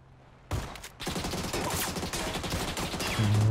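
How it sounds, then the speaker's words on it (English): Shotgun and sniper rifle fire in the battle royale game PUBG, a sudden loud blast followed by a dense run of sharp shots and clatter that stays loud throughout. "Shotgunned and sniped that guy."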